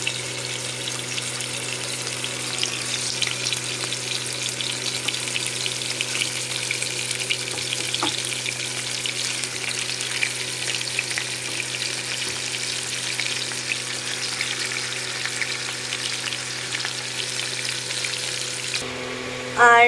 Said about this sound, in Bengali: এবারে একটা একটা করে চিকেন দেওয়া হচ্ছে। তেলটা গরম হয়ে গেছে।